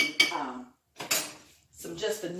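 A utensil stirs a Georgia peach mixture in a dish, making three short bursts of clinking and scraping against the container with brief silences between them.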